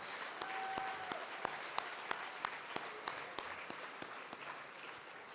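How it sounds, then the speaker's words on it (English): Applause from the audience at the 2019 Points of Light Awards gala, fairly faint and distant, a wash of many hands with a few sharper, regularly spaced claps standing out. "Let's have another round of applause for the incredible Garth Brooks"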